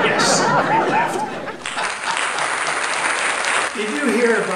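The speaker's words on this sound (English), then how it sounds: "Insert spontaneous applause here." Applause breaks out during a sing-along songfest comedy routine, with a laugh and chatter at the start, then steady dense clapping filling the room before a voice cuts in near the end.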